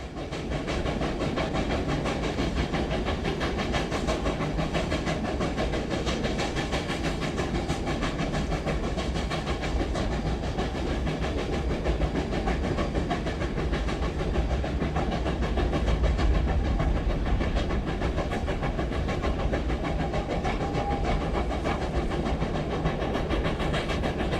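A Rio Grande narrow gauge steam train draws closer on Cumbres Pass near Windy Point and Coxo, a steady broad rumble with hiss and rail noise, loud and continuous throughout with no voices.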